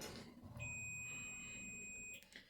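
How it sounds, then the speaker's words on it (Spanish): A steady high-pitched continuity beep from a multimeter sounds for about a second and a half while testing an LCD TV switching power supply, then stops, over faint background hiss. "lo coloco en la escala de pitido o diodo"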